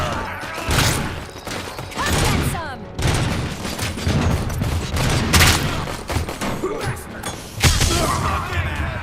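Rapid bursts of gunfire from RoboCop: Rogue City, loud and close, overlapping with booms and crashes across the whole span, with someone talking in between the shots.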